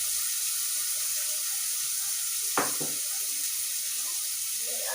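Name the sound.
onion sizzling in a frying pan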